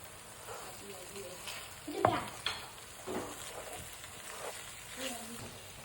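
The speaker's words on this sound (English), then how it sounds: "I'm gonna be putting inside garlic paste. I'm gonna be mixing." Garlic paste is stirred into a hot pan for a creamy beef bacon pasta, giving soft sizzling with several scraping spoon strokes and a couple of sharper clinks, close by.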